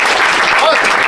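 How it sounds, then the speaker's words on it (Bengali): Audience applause at a pigeon fanciers' programme, a loud, continuous wash of clapping filling the whole short moment without pause. "তো একটু হাততালি হোক।"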